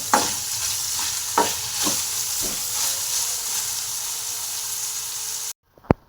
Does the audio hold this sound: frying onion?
yes